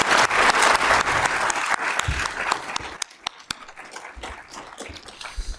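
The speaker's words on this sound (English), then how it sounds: "can we give these guys a round of applause" Applause for a panel at a Colorado River law and science symposium, loud and crowded at first, then thinning into scattered individual claps with a few sharp near ones.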